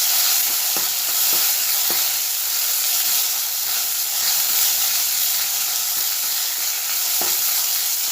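Steady loud sizzling of spices frying in hot oil, with occasional sharp pops and stirring clicks throughout.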